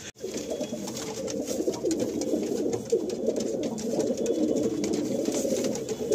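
Pigeons in breeding cages inside a loft coo steadily and overlap, close and fairly loud, with a constant rustling background and no talk.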